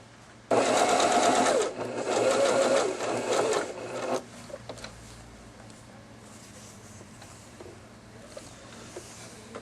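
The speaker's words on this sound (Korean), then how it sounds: "사용해서 박음질을 해보겠습니다." A sewing machine runs a straight lockstitch with 3 mm width and stitch length. It whirs in a loud, rapid, steady rhythm for several seconds, then stops, leaving a quiet room.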